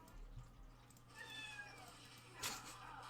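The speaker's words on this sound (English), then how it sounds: "he's meowing." A pet cat lets out a faint, drawn-out meow in the middle, quiet and somewhat distant against a soft background hiss, with a brief clatter just after.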